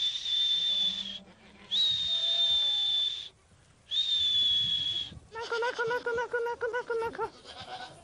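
Farm goats bleating near the microphone in a few drawn-out calls, joined by a voice calling them, with rustling between the calls.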